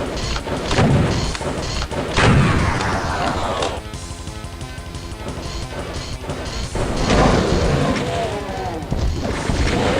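Rockets fired and exploding in Doom on the Slaughterfest 2012 map Cashews: a loud, dense barrage of crashing blasts and booms layered with constant game noise, with heavier bursts near the start and end.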